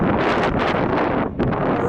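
Strong wind buffets the microphone on an 11,000-foot mountain summit, a dense continuous roar filling the whole stretch with only a brief dip, while voices talk underneath.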